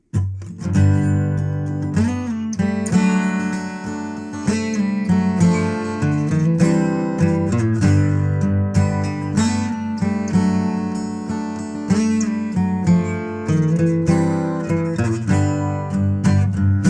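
A band plays a steady, full-sounding live song with strummed chords and a driving rhythm, loud and continuous throughout with no talking.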